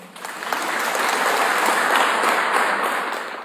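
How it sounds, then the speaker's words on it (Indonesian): A crowd at an Indonesian ministerial speech breaks into steady applause, dense, sustained clapping that swells after a brief start and holds loud through to the end, with no speech over it. "Bu Menteri beri tepuk tangan dong."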